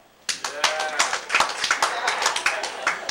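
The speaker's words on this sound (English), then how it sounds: "Married? Applaud." Scattered clapping from a comedy class audience in 1989, a modest run of uneven, separate claps rather than full applause, fairly close and loud.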